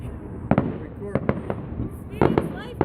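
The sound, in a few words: fireworks exploding over Union Lake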